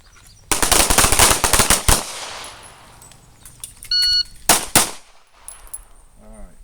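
Handgun shots ring out at combat accuracy practice: a rapid, loud string of shots, a short electronic timer beep, then one or two more sharp reports echoing outdoors.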